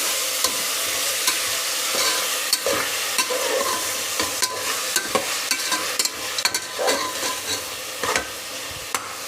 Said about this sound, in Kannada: ಈರುಳ್ಳಿ ಸ್ವಲ್ಪ ಫ್ರೈ ಆಗಬೇಕು.